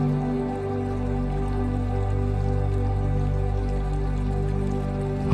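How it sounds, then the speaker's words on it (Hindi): Gently flowing water, a soft, continuous and steady wash with an even level throughout, heard alone without any voices. "आपके कानों में बहते हुए पानी की मंद मंद ध्वनि आ रही है।"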